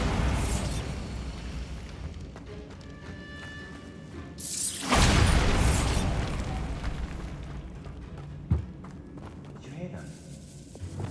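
A Bombarda blast spell goes off in Hogwarts Legacy inside a tomb, striking stacked bones by an archway: a loud, broad boom with a rumbling tail near the middle, then a sharp pop, over ambient game sound and a voice talking.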